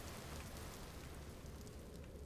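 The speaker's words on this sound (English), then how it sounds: "It's raining." Rain falls outdoors in the video game Empty Shell, a soft, even hiss of steady downpour with a faint patter of drops and no voices.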